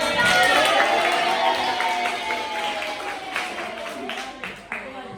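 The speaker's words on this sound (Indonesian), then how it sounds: "Tepuk tangan." Indonesian classroom of students clapping together during a teacher's lesson, a dense, steady burst of applause with children's voices and chatter mixed in, tapering slightly toward the end.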